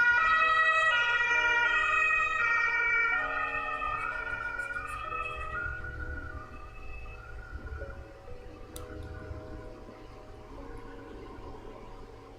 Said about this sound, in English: It's also kind of ambulance-y outside,